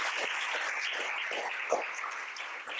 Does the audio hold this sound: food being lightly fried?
no